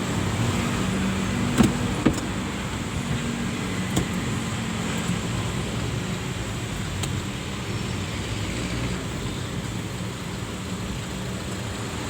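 A truck is being parked at a warehouse, its engine giving a steady, close, continuous rumble and hum with a couple of faint clicks and knocks, no voices.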